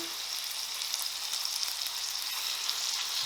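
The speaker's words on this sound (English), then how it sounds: "Oh yeah, you hear that sizzle." Steady, loud sizzling and crackling of chicken frying in hot oil in a pan, a continuous bright hiss with small pops throughout.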